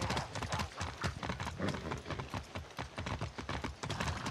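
Steady clip-clop of a horse's hooves trotting over a road in the video game Far Cry 6, rapid and rhythmic, continuing throughout at close range.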